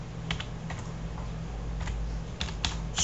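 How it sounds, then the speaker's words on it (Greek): Rapid, irregular clicks of typing on a computer keyboard, close and clear over a low steady background hum, with no voices. "θα πάω να πληκτρολογήσω ένα blog του club"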